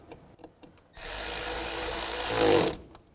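A power tool whirs steadily for about two seconds while tightening the intake manifold screws on a 2006–10 Volkswagen Jetta, with a brief pitch rise near the end and quieter mechanical clicks before and after.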